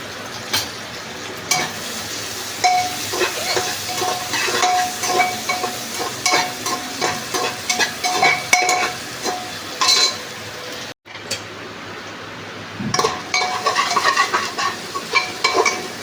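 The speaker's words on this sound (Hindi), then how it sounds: "और यहाँ पे फिर मैंने लहसुन, प्याज, अदरक, टमाटर सब कुछ अच्छे से भून के" Garlic, onion, ginger and tomato fry and get stirred in a pan, a steady close sizzle broken by frequent scrapes and clinks of a spoon against the metal.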